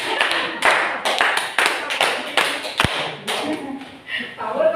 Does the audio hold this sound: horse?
no